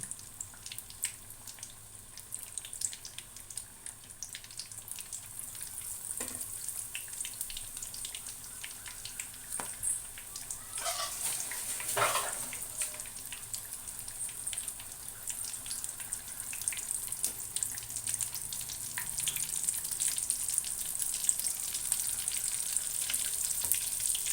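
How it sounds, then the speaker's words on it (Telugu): Chili bajji fritters sizzle in hot oil with a steady crackling hiss that grows slightly louder toward the end, with occasional splashes and no talking. "ఇలా రెండు వైపులా కాల్చుకోవాలి మరొకటి వేసుకున్నాము"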